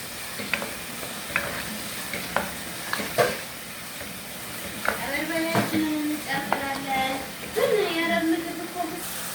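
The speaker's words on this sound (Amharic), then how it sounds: "ይኸውላችሁ በደንብ እየተቁላላ ነው ቁሌታችን" Onion, garlic and tomato frying together in hot oil for an Ethiopian firfir base, giving a steady low sizzle with repeated scraping stir strokes and a voice talking over it.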